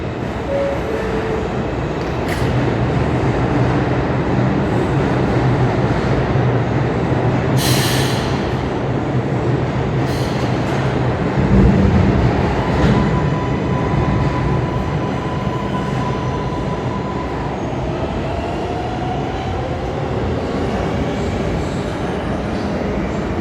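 An NYC subway R142A train fitted with Metroflexx brakes runs on the 4 line, producing a steady loud rumble of wheels and car noise with brief high squeals and hiss bursts, heard continuously from close by without talk.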